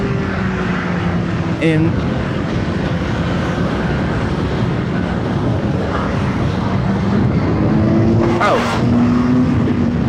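A CFMOTO 750SR-S motorcycle engine drones steadily while riding, its pitch sliding up and down with the throttle and shifting partway through under wind noise, with a rider speaking briefly.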